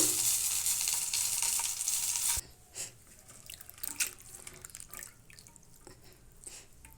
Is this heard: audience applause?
no